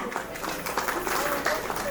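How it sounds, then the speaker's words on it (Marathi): Guests at a baby's cradle ceremony applaud for a woman, scattered clapping and crowd noise under ongoing talk from the host and others, moderately distant and fairly soft. "नीता ताईसाठी जोरदार टाळ्या."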